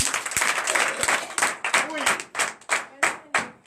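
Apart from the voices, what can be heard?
congregation applauding and clapping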